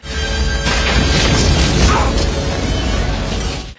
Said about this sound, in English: the shot that holds up the best is when the helicopter actually explodes.